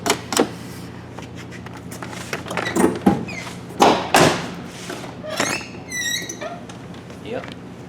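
The door of a 1998 Chevy GMT-400 truck is worked back and forth, giving thumps, clicks and a few short squeaks, with a voice talking intermittently.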